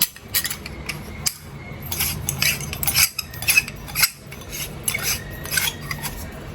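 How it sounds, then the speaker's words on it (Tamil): Metal parts of an omapodi press clinking, scraping and grinding together as it is assembled and screwed shut in a kitchen, in irregular bursts of rattles and rubbing, close and fairly loud with no talk. "அதை இதுக்குள்ளே வச்சுட்டு இதால் இதை மூடி இதில் திருகணும்."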